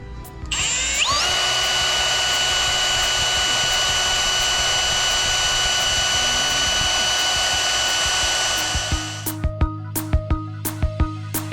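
A drill with a lubricated quarter-inch bit runs continuously at close range into a 350 crankshaft with a steady high whine for several seconds, then winds down into a series of sharp ratcheting clicks.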